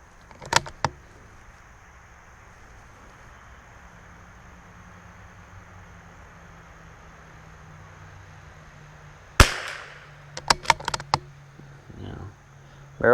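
Rifle shots from a CZ 457 fired at a steel target: a sharp report near the start, a second sharp crack around the middle, then a quick cluster of impacts and handling clicks, set against a faint steady background.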